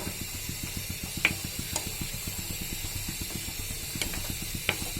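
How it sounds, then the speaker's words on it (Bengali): Potatoes tossed with spices in a hot pan over high flame give a soft hiss, with regular light scraping strokes of stirring and a couple of sharper clinks. "আমি আলু কষাচ্ছি"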